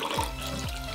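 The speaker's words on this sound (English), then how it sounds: "Next, we're going to add quite a bit of raspberry vodka." Raspberry vodka poured into a cocktail glass over freshly squeezed lime juice, heard as a steady close-up liquid stream whose pitch rises as the glass fills, with no voices.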